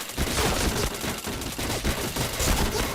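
Rapid bursts of gunfire rattle in a shooter video game, dense and continuous across the whole stretch, loud and close with overlapping shots and no speech.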